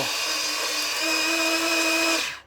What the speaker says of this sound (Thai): มันจะมีเร่งแล้วก็เบา เดี๋ยวลองดูนะ ฟังเสียงเอาน่าจะได้ยิน